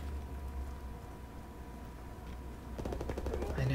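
Gunfire in the Call of Duty: WWII multiplayer video game, a steady wash of battle noise with a burst of rapid automatic fire rising near the end and no speech over it.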